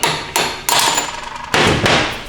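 Four sharp, loud hammer blows drive a bushing out of a 4L60 automatic transmission on a shop bench, each metallic strike ringing briefly before the next, with no voices.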